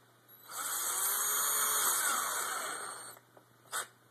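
An electric drill drives a screw into an Xbox 360 case, making a steady high whirring whine for about two and a half seconds, then stopping, followed by a short clack of handling.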